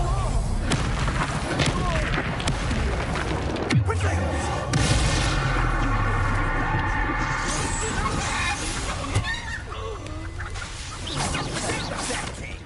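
Hogwarts Legacy battle audio plays the Bombarda spell with a sharp magical blast in the middle, amid other combat impacts, creature squawks and spoken game voices throughout.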